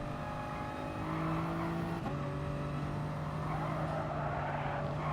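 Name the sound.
Toyota Supra race car engine in a racing video game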